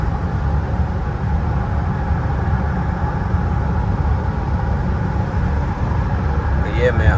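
Steady low engine and road rumble inside a BMW E39 cruising at night, a continuous drone with no talking and a faint high squeak near the end.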